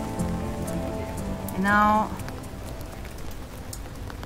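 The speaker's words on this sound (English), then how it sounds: "it became a rainy day" Steady rain patters across surfaces on a moody rainy day in a Spanish town, a constant wash of drops beneath a brief spoken phrase.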